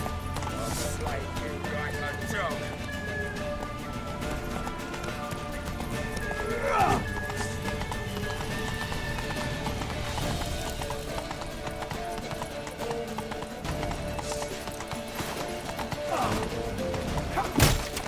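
Horse hooves galloping in the video game The Witcher 3, a continuous clip-clop rhythm running throughout beneath shouted voices and scattered impacts.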